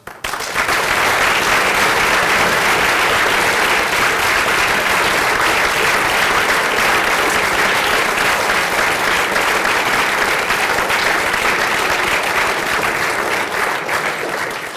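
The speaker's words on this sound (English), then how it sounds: "Please join me in giving yourselves a round of applause." Audience at a marching band selection ceremony applauding, a loud, continuous roar of many clapping hands that starts abruptly and holds steady throughout, with no talk over it.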